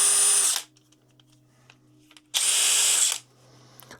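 A DeWalt 18V XR brushless DCF922 half-inch impact wrench runs in two loud bursts of about half a second and one second, separated by near silence with a faint hum between them.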